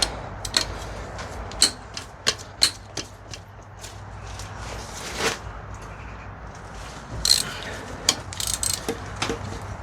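Bolts are worked loose on a high-mileage Volvo engine with a ratchet, giving scattered metallic clicks and clanks, some sharp and close, over a low steady hum.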